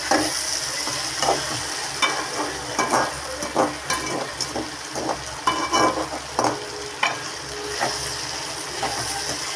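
Broad beans and okra sizzle steadily in a pan while being stirred, with repeated scraping and clattering strokes over continuous frying hiss, close and fairly loud.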